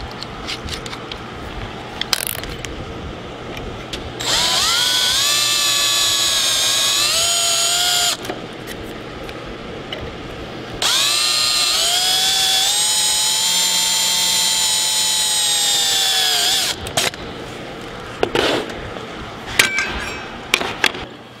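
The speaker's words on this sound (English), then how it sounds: "I start it with a number 40 and then I drill it with the number 30" A number 30 drill bit bores holes for Zenith 750 flaperon weights. Two long, loud, high whining drill runs are separated by quieter gaps with short clicks and brief bursts of the drill.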